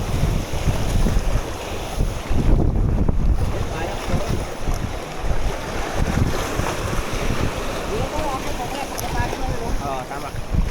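Strong gusty wind buffets a small fishing boat at sea off Twin Island, Batangas, roaring and rumbling with waves slapping beneath, loud and close throughout.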